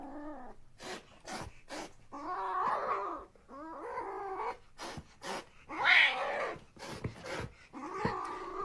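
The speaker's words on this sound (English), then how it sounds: "Oh, it's a serval, but it's little." A young serval cat growls and hisses in repeated harsh bursts with brief gaps, close and fairly loud, alone without talk.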